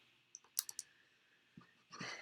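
A few quick plastic button clicks in a short burst, then a pause and two more soft presses, close and fairly quiet.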